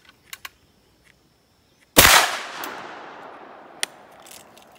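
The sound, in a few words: 32 gauge shotgun firing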